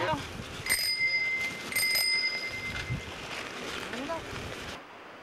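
A bicycle bell on a group ride at Seaside gives two or three bright rings early on, amid wind noise and people talking nearby.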